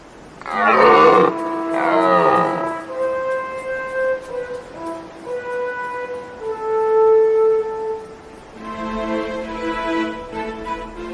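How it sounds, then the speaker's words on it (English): Deer stags roar in autumn mountains: a series of long, deep, drawn-out bellows, some overlapping, carrying loudly as if across open slopes. "All day long, the rotting calls of stags echoes from the slopes."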